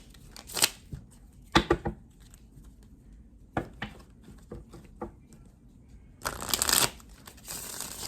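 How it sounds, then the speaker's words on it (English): Tarot cards being shuffled and pulled from the deck, with several brisk riffling bursts and soft papery slides spread across a quiet stretch, close and fairly quiet, no talking. "So let me just pull some cards"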